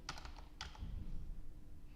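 Keys on a computer keyboard tapped in a quick burst of several clicks, then a second short cluster, close and fairly soft, followed by a low background hum.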